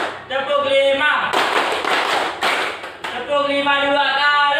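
Students in an Indonesian classroom clap a patterned rhythm in short loud bursts between sung or chanted voices, the claps crowding the middle of the stretch.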